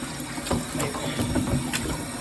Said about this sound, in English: Pour this water out right here.